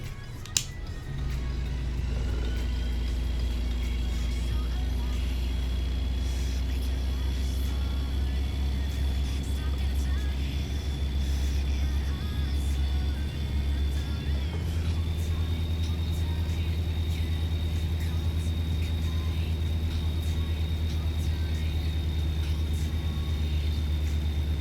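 Diesel truck engine in American Truck Simulator, a steady, loud low drone with a rising whine that dips midway and then resumes, heard continuously from the cab with brief clicks and a voice talking over it.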